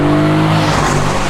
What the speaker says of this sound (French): Qu'est-ce que ça freine bien.